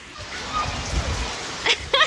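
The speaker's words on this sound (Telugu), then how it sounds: "మా ఊళ్ళో వర్షం పడుతుంది." Rain falls in a village as a steady, close hiss of drops and splatter, with brief louder bursts of voices near the end.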